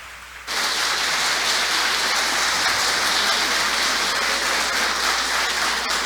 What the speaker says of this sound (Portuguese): o público não pode se manifestar com palmas